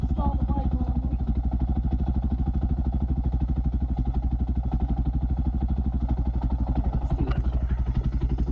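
A Suzuki DR650 motorcycle engine runs close by at a steady, thumping idle, with a brief sharper clatter near the end.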